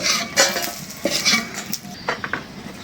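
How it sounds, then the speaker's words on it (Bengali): Dried red chilies frying in a pan, with a light sizzle under brisk spoon scrapes and metallic clinks that come in short uneven bursts close by. No one speaks. "শুকনা মরিচ ভেজে নিলাম"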